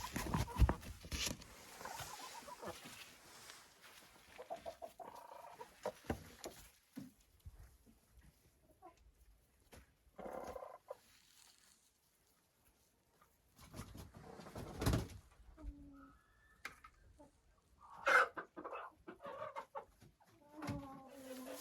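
Hens in a henhouse on a frosty day give soft, scattered clucks and short calls. The sounds are quiet and come in bursts with gaps of near-silence between them.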